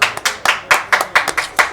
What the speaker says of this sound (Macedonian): Еден аплауз ве молам.